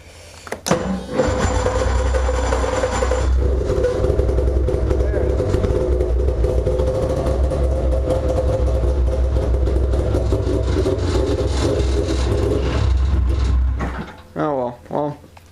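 A Craftsman DYT4000 lawn tractor engine runs steadily at a loud, close idle for about thirteen seconds, then cuts out, with brief voices after it stops.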